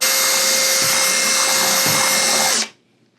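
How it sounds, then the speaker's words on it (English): A power drill with a 1/8 inch bit whines steadily as it widens a hole in a skull, a loud continuous run that stops abruptly near the end. "I use an 1/8" drill bit to drill this hole. It's a little bit small, so I'm just going to core it out just a tad more."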